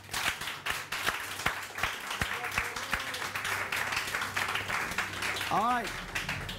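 A television morning-show studio audience claps for a guest, scattered sharp hand claps building into uneven applause beneath a presenter's voice.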